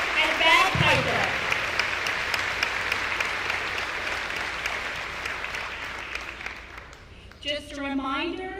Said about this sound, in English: let's start with a round of applause for the Color Guard and the Keystone College Symphonic Band and Bagpiper